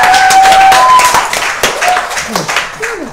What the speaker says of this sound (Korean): 이게 우리 박수 한번 치시죠.